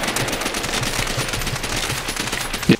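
StG-44 rifle gunfire in Call of Duty: World at War, a fast continuous burst of rapid, evenly spaced automatic shots, fairly loud and close, ending with a heavier thump.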